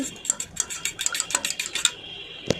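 A metal fork beats eggs with a pinch of salt in a bowl, giving quick rhythmic clinks and taps against the sides, fairly close, with one sharper knock near the end.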